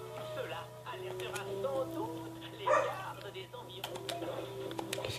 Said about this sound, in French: Qu'est-ce qu'ils ont les chiens aboyés?